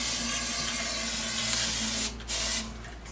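Silicone spray hisses inside a pump housing in a steady, close, continuous burst, breaks off briefly, then resumes for a second shorter spurt.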